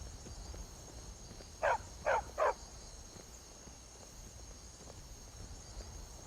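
A dog barks three quick times in the video game Skyrim, standing out over a quiet outdoor bed of chirping insects.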